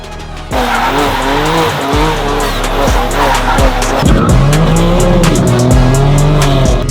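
A BMW G82 M4 is driven hard, its engine roaring loudly while the tires squeal in long, wavering shrieks that rise and fall throughout.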